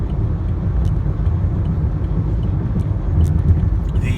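Car on a road passing close by, a loud continuous low rumble of engine and tyres holding steady for several seconds with no talking.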